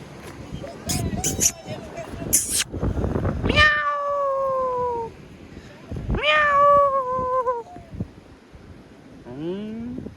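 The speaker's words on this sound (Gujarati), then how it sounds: "જો બિલાડી જાય છે" A cat meows several times in drawn-out, falling cries, close by, with wind buffeting the microphone. People chat and laugh between the meows.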